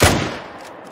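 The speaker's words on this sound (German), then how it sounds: "Ja, ein guter Schuss." A crossbow shot fired while hunting razorback in theHunter: Call of the Wild, a single sharp crack at the start that fades quickly into a short decaying tail.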